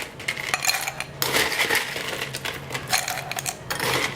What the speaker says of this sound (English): So all you do is fill your glasses with ice.